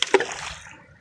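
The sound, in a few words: water splash as Riley crosses the river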